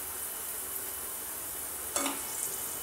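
Kasuri methi stirred into vegetables in a hot pan, a steady soft sizzle throughout with a brief scrape of the spoon near the end, close and without talking.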